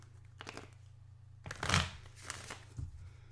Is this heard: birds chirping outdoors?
no